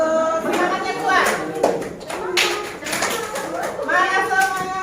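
A group claps hands together in a classroom teaching session, the broad bursts repeating in a steady, energetic rhythm under chanted voices.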